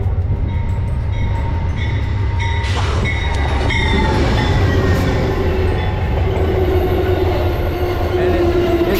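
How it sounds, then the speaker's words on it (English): A passenger train arriving at Ashland station rumbles past close by with a deep continuous roar, faint squealing wheels and clattering, while some voices murmur in the background. "we're here just in time to see the passenger train come in"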